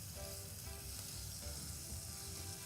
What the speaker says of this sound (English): We know it's hot when it sizzles very well.